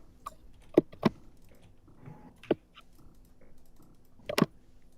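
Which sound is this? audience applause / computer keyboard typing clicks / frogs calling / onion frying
computer keyboard typing clicks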